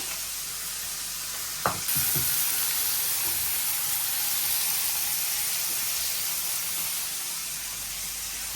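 Stalk greens (data shak) cook in a pan in a home kitchen in France, a steady steamy hiss and sizzle with a brief utensil clank near the start.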